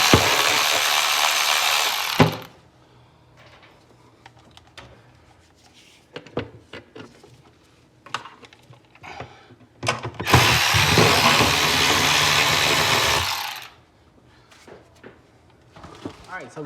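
A ratchet tightens transmission pan bolts on a Ford 10R80 transmission during a fluid and filter service. Two long loud bursts of rapid clicking are separated by quieter clinks and tool handling, with talk in between.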